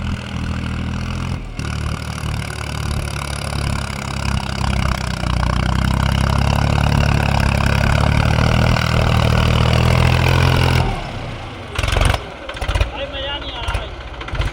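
A loud tractor engine runs steadily at close range for about ten seconds, then cuts down to rougher bursts with intermittent noise.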